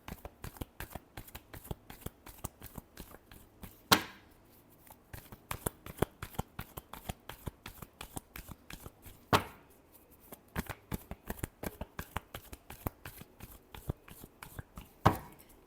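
Tarot cards are shuffled by hand in a long run of quick, crisp riffling taps and slaps, close and fairly quiet, with a few sharper knocks between bursts and no voice.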